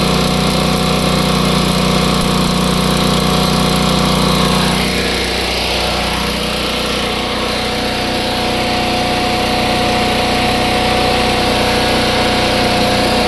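A motor on an abandoned crane runs loud and steady for the whole stretch, a continuous engine drone whose tone barely shifts partway through, with no voices over it.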